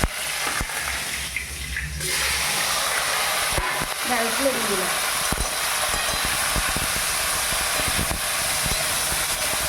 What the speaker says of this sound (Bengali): কারি পাতাটা একটু সামান্য নেড়ে এর মধ্যে ঢ্যাঁড়সগুলো দিয়ে দিলাম